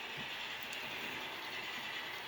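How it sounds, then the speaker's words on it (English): A model ore train pulled by double-headed steam locomotives rolls around a layout helix, making a faint, steady rumble of wheels on track with a couple of light clicks. "So this train is northbound, which would be the wrong way for a loaded ore train."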